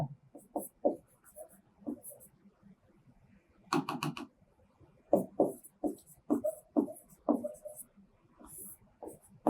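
A teacher writes notes on a classroom board during a physics lesson on magnetism, producing short scratchy strokes in an irregular rhythm, close and moderately loud, with faint speech in places.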